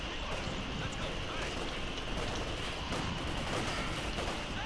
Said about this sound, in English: Go ahead and just keep firing on those guys